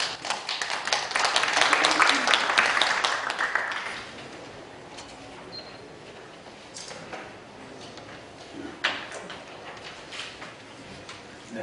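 Audience applause at a symposium, a burst of clapping from a seated crowd that swells and then thins out, followed by scattered small taps and room noise.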